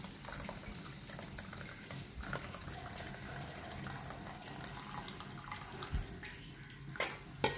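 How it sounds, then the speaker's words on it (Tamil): Mutton broth poured into a cooking pot for Arabian majboos biryani, a running, splashing liquid stream with a few clinks near the end, no talking. "இப்போ மட்டன் தண்ணி இதில் விட்டு வச்சிடலாம்."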